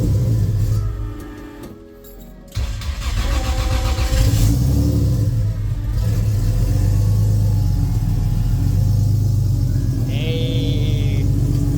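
A 2JZ engine running in a Nissan S14 with an 8HP70 transmission, a loud, steady idle after a brief dip near the start, heard close up with a high chirp late in the clip.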